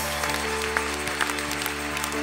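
A church congregation applauding at a twentieth-anniversary service, a steady wash of clapping from many hands with a few sharper claps standing out, under a faint sustained musical tone.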